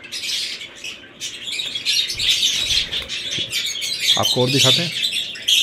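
A pair of pale fellow budgerigars chirps and tweets with busy, overlapping calls throughout, under someone talking close by.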